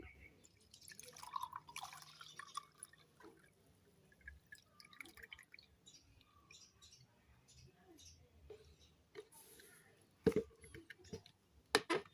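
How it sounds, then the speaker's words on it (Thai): Homemade rat-repellent liquid is strained through a filter, giving faint, scattered drips and small trickles against a very quiet background, with a few sharper drops near the end. "เสร็จแล้วเราก็ทำการกรองครับคุณผู้ชมครับ เราก็กรองเอาแต่น้ำเนี่ยนะครับ"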